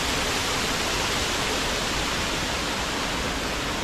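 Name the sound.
Areekkal waterfall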